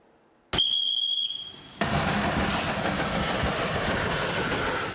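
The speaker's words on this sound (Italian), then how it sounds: "È il treno della memoria che domenica prossima porterà gli alpini al 10° raduno del battaglione Gemona." A historic special train with 1930s carriages, carrying Alpine troops to a battalion reunion near Gemona: a sharp whistle blast sounds first, then a loud, steady rumble of the rolling train and engine continues throughout.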